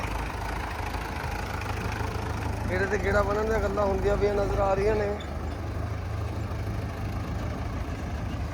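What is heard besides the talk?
tractor engine running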